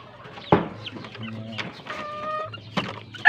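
A red hen clucks in a backyard coop, giving short broken clucks and a few drawn-out tonal calls close by, with sharp knocks and other fowl sounds between them.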